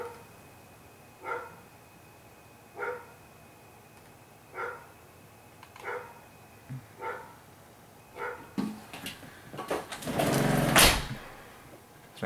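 A dog gives a series of single barks spaced roughly every second or two, at moderate distance, then a louder, busier burst of noise near the end, with no talking.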